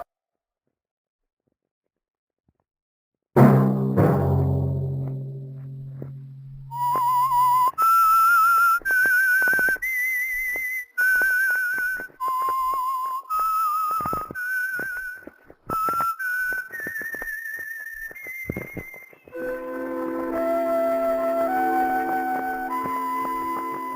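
After a low thud, a clear whistled melody plays alone, the signature theme of the radio drama The Whistler, steady rising and falling notes held for several seconds before a fuller musical chord enters.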